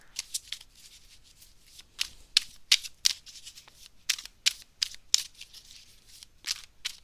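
Tarot cards are shuffled during a live reading, heard as a series of crisp, close, papery snaps and riffles in an uneven rhythm. Near-silent gaps fall between the bursts.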